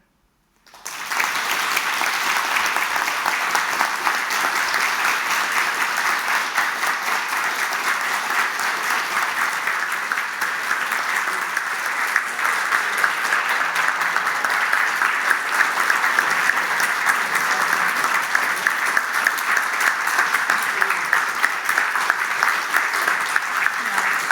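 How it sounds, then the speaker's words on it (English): Sustained, even applause from a lecture audience at an inaugural mathematics-and-medicine lecture bursts in abruptly and keeps a dense, steady clatter of many hands for over twenty seconds without a break. "Obviously, from the amazing applause"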